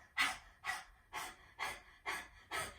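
Six rhythmic, close, forceful exhales about half a second apart during a yoga practice, each a breathy rush of air with quiet gaps between, no talking.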